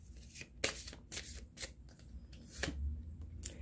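A deck of cards is shuffled for a last draw, giving a few quick crisp riffles and flicks that stand close and fairly quiet, with no talk over them.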